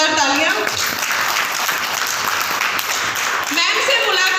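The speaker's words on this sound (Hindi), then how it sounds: "मैम के लिए जोरदार तालियां।" Loud, dense applause fills a Modicare seminar hall in Palwal as an audience claps for a woman seated in front, and a voice speaks at the start and end.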